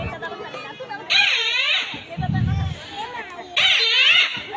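A voice imitates a kite's call: two loud, wavering high-pitched cries close by, with lower vocal sounds in between.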